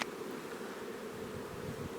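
Honeybees at hive supers being drawn out with new comb give a steady, close, dense buzzing drone that holds evenly for the whole two seconds with no voices.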